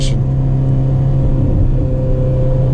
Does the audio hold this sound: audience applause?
no